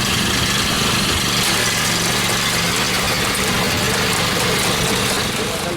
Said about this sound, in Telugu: అనుకున్నదే తడవుగా యంత్ర సాయంతో నాట్లు వేశాడు